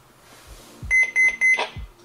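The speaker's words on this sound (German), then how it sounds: "Achtung! Einsatzalarm der Feuerwehr." A smart home system sounds its fire brigade call-out alarm, three loud, evenly spaced electronic beeps with thuds around them, close and clear.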